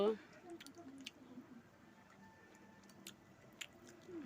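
Crispy fried egg is chewed close up, with a few faint, crunchy bites spaced out over quiet background.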